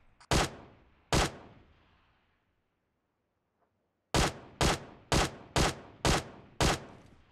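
Gunfire in PUBG Mobile: two sharp, loud shots with ringing decay, a pause, then a rapid regular string of six more close shots, no talking.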